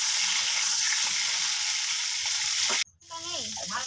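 Large chunks of potato frying in oil for a Kolkata-style garlic mutton curry give a loud, continuous close-up sizzle that cuts off abruptly near the end, after which a voice is briefly heard.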